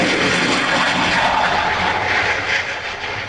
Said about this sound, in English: Japan has just unveiled its first stealth fighter jet